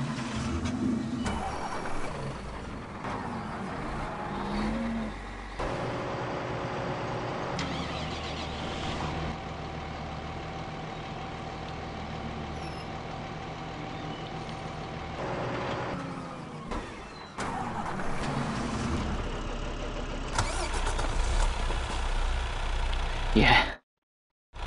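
A tractor engine idling and running steadily in Farming Simulator, a continuous mechanical drone with shifts in intensity, with voices talking over it.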